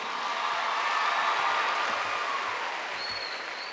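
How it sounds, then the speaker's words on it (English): Audience applause welcoming two volunteers to the stage at a state convention keynote, a steady broadband clapping wash filling the room for several seconds, fairly loud and continuous, fading slightly toward the end. "Give him a big hand clap."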